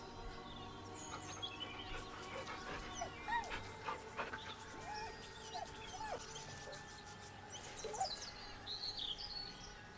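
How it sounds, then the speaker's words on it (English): A dog whimpers nervously in Baldur's Gate 3, soft repeated whines over steady background ambience with faint bird chirps scattered throughout. "The dog whimpers nervously,"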